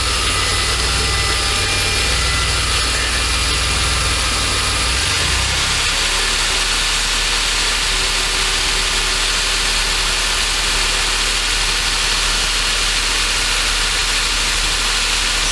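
A DeLorean engine runs with its air-conditioning compressor engaged, a loud, steady mechanical roar that shifts in tone partway through as the revs rise, heard up close with no talking.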